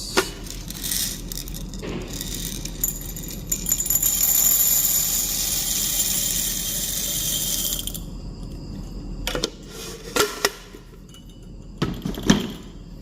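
Freshly hot-air roasted natural Colombian coffee beans from Granja La Esperanza pour out in a steady rattling, rustling rush for several seconds, then scattered clattering bumps and taps as the flow ends, close and fairly loud with no talking.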